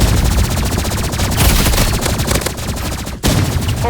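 Rapid automatic gunfire from a weapon in the Roblox video game, loud, dense bursts of shots rattling almost continuously with only a brief break near the end.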